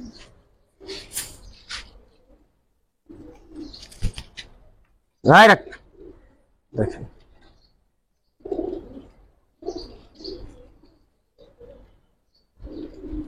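Giribaj racing pigeons coo softly in a loft, low murmuring calls repeating between and beneath someone talking close by.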